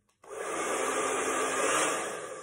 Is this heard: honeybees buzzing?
no